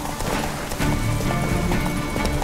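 A horse gallops steadily in the video game The Witcher 3, its hoofbeats a loud, continuous, rapid clatter set within a dense game soundscape.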